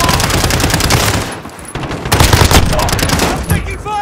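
Rapid automatic gunfire bursts crackle loudly and continuously in a Call of Duty Modern Warfare team deathmatch, with a brief lull midway before the shooting resumes, layered over game battle noise.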